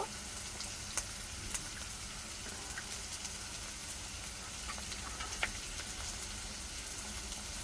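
Chopped ginger and garlic sizzle and fry in a pan, a steady close hiss broken by occasional sharp pops and crackles, with no voices present.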